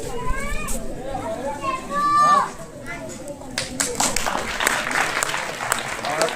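Audience applause at a school quiz competition for an Eid-e-Milad function, with children's voices and chatter at first, then clapping building and filling the room toward the end.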